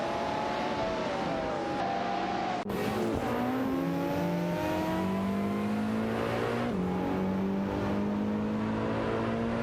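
Lamborghini Diablo VT and Diablo GTR race car engines in a video game race, loud sustained revving with rising and falling pitch as gears change, a sharp shift click near the start, constant and close with no talk.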